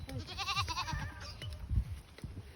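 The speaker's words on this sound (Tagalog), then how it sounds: "Ayun, may puti na kambing." A goat bleats with a shaky, wavering cry early on, amid low rumbling movement and background noise nearby.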